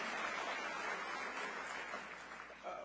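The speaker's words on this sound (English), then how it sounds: "we can clap for solar, we can clap for clean energy" An audience bursts into sustained applause during a mayor's State of the City address, a dense wash of clapping from a large hall that eases slightly toward the end.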